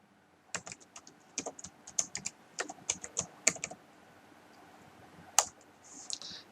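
Someone types a password on a computer keyboard: a quick, irregular run of crisp key clicks close by, then a pause and a final louder tap, in a quiet room.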